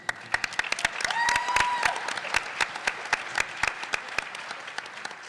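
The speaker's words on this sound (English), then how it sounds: "So far you've got the best cheering crowd" Applause and cheering from an audience at a philanthropy pitch competition in Columbus. Close individual claps stand out sharply over a broad crowd roar, with a couple of whoops rising midway and a voice briefly underneath.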